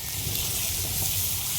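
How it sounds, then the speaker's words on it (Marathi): Hadga flowers are stir-fried in a pan with chili powder, turmeric and salt, giving a steady, close hissing sizzle with no talking over it. "आता लगेच याच्यात मी हादग्याची फुलं टाकून घ्यायचे आणि मस्त खालीवर परतून"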